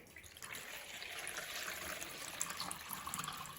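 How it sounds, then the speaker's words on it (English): Water pours steadily into a bowl while preparing poha (flattened rice) cutlets, a soft, continuous trickling splash that stays faint and close, with no voices over it. "add water"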